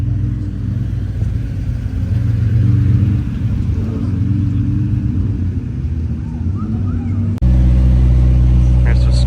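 Pagani Zonda C12 Roadster supercar engine rumbles in a deep, loud, continuous drone nearby with a noticeable shift late on as it revs or passes, with voices partly mixed in.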